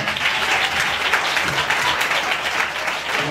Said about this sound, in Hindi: जोरदार प्रभु के लिए तालियां बजाते